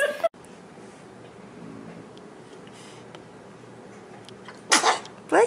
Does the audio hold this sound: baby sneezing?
yes